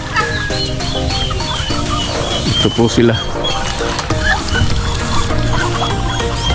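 Backyard farm chickens, ducks and turkeys cluck and call in a busy, overlapping chorus close by, while a person speaks over the birds.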